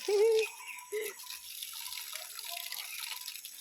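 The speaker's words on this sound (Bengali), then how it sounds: "এই যে গাছে জল দিচ্ছি" Water is poured onto garden plants, two quick splashing gushes followed by a soft, faint trickle and drip that continues quietly.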